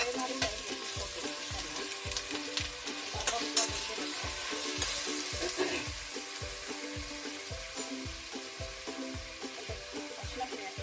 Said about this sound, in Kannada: ಸ್ವಲ್ಪ ಫ್ರೈ ಕಂಪ್ಲೀಟಾಗಿ ಫ್ರೈ ಮಾಡಿಬಿಟ್ಟು ಹಾಕ್ತೀನಿ ನಾನು